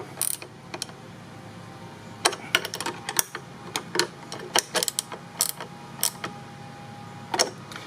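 A ratcheting tool tightens the mounting bolts of a transducer on a Yamaha jet ski, giving bursts of rapid dry clicks and creaks in uneven runs, close and fairly loud.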